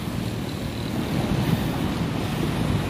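Low, steady engine drone of a small ketek motorboat on the Musi River, mixed with wind buffeting the microphone and faint water wash.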